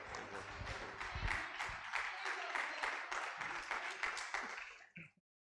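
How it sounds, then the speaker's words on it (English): A symposium audience at an emergency medicine event breaks into sustained applause, a dense crowd of clapping hands with some voices mixed in, fading out abruptly near the end. "Let's give ourselves a round of applause,"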